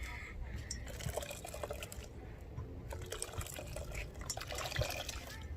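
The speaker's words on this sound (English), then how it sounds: "squish the coconut" Grated coconut is squeezed by hand to press out its milk, making steady wet squelching and trickling sounds close by, with soft clicks in between.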